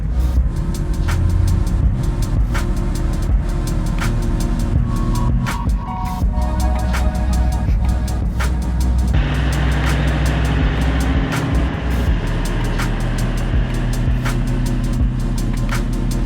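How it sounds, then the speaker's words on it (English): Road traffic around a tow vehicle in Australia, a continuous low rumble of engines and tyres with tonal whines shifting partway through, steady and fairly close, no voices. "Bloody traffic."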